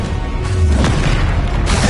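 A Confringo fire spell bursts in Hogwarts Legacy combat, a dense, loud rumbling boom that swells and rolls amid continuous battle noise over about two seconds.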